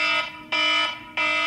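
A loud alarm clock set near its highest volume rings in three long, blaring electronic bursts with brief gaps between them, harsh and piercing up close, with no talking.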